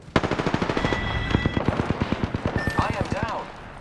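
Automatic weapon fire in the battle-royale shooter Apex Legends, a loud rapid burst of evenly spaced shots running nearly the whole moment, with game voice lines over it.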